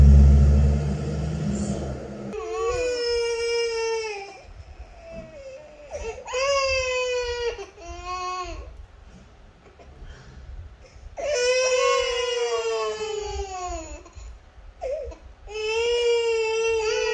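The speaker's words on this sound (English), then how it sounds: "baby crying sound from YouTube was detected" A recorded baby-crying sound effect played back from a speaker, an infant wailing in repeated long sobbing bursts with short gasping pauses, preceded by a low rumble.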